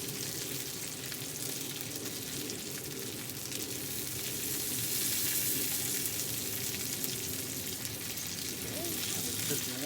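Smash burgers and onions sizzle steadily on a hot griddle for a breakfast sandwich, a dense continuous frying hiss close by with a brief quiet voice over it.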